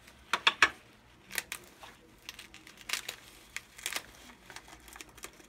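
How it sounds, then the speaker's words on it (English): Close crinkling of a plastic bag mixed with light scissor snips and scraping under tape, coming in short irregular bursts against a quiet background. "So I'm going to use my scissors to get under the tape without cutting the bag."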